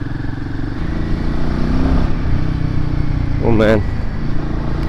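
Royal Enfield Himalayan 450 motorcycle engine running with a short rising throttle blip from its exhaust, heard close under a voice talking over the steady engine drone.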